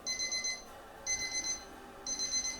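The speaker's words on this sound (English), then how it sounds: "his alarm started ringing like a fire drill" An alarm clock rings in three shrill, repeated bursts with short gaps between them, loud and close.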